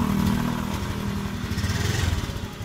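Motorcycle with a faulty throttle position sensor that stalls when throttle is first opened, idling close by after being restarted with a rough, uneven throb that grows more pulsing toward the end.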